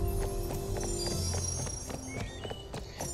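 Horse hooves clip-clop at a steady walking pace in the Barbie Wild Horse Rescue video game, over a dense background of game music and ambience, with no talking.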